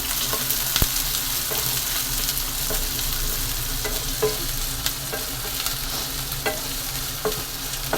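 Onions sizzle steadily as they fry in oil in a pan, with occasional clinks and scrapes of a spoon stirring, no voices.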